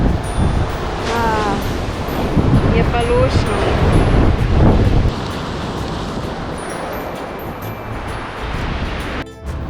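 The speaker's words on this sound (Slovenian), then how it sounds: "Veter piha" Strong wind buffeting the microphone on the beach at Kamari, Santorini, a loud continuous roar with surf mixed in, while someone speaks briefly over it.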